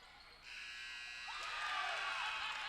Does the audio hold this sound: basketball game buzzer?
yes